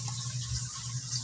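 Water running steadily over koi pond filter media as it is washed, a continuous splashing, hissing flow like a tap filling a basin, fairly close with no talk.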